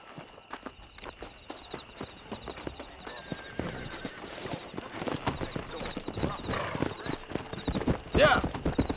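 A horse's hooves clip-clop and then pick up into a gallop in the Western game Red Dead Redemption, with a neigh along the way and a rising, rhythmic pounding under game ambience and a little talk.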